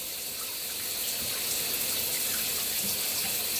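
Shower water runs in a bathroom, a steady hissing spray that holds at an even, moderately loud level throughout with no talking.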